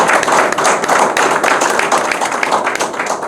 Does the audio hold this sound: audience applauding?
yes